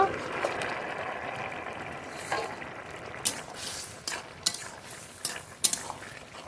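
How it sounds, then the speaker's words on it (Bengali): Thickening duck curry stirred in a pot with a spoon, steady soft scraping and occasional clinks over a low bubbling simmer, fairly close and moderately quiet throughout. "এবার একটু নেড়ে নেড়ে ঘন করে নেব"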